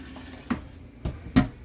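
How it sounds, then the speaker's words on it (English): An RV toilet in a 2022 Jayco Pinnacle flushed with a step pedal: a few short watery gurgles and clunks close by, water running briefly into the bowl. "You will just need to simply step on this pedal right here. It will bring water into the bowl, open the valve up, and it will flush just like so."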